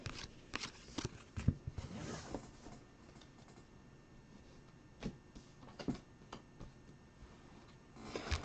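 Trading cards shuffled, stacked and handled during a live card-breaking stream, with soft papery slides and sharper snaps arriving in irregular bursts close by, quieter in the middle stretch and busier near the start and end.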